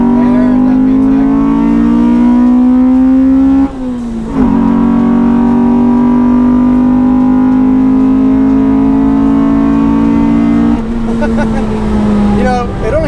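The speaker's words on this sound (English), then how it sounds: "Give it a little juice. There's that VTEC." A modified Honda Civic EK hatchback race car, about 160 horsepower, revs loudly and climbs into VTEC with a rising engine note. There is a brief dip as it shifts, then another long pull.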